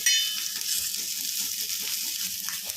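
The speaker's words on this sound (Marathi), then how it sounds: "चांगला खरपूस भाजून घ्यायचा आहे आपल्याला कांदा" A whole onion roasting over heat for stuffed brinjal gives a steady, fairly loud sizzle and crackle. The hiss is even and close and runs the whole way through, with no voices.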